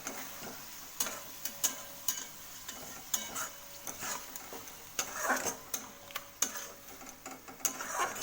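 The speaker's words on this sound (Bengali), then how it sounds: "আমি এটাকে ভালো করে এই মশলার সঙ্গে ভালো করে কষাবো" A paste of ground cashew, raisin, almond, melon seed, coriander leaf and chilli is sautéed in oil with masala, with a soft sizzle beneath regular ticking spatula taps and scrapes.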